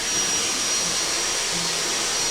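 Vapor blasting gun running at about 70 PSI while cleaning an engine in a shop, a steady loud hiss of rushing air and spray that continues without a break.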